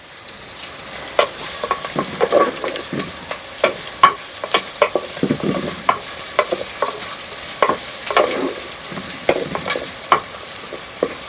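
Onions fry in a pan for mutton sukka, with a steady soft sizzle broken by repeated scraping clicks of a spoon stirring them, close up and without speech.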